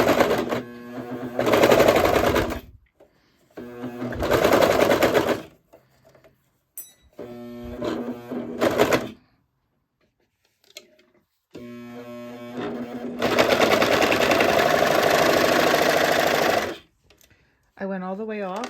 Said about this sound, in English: it's going to trim a little bit off the bottom, and it's going to sew a line as well as zigzag